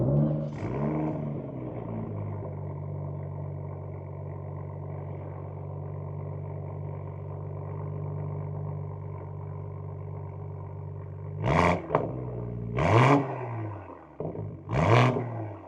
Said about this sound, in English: this car does have a muffler delete, so I'm gonna give you guys a startup and some revs